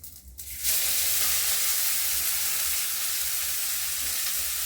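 Cabbage frying in a pan over a low gas flame gives a steady, even sizzle that starts abruptly after a short quiet moment and holds on close and constant.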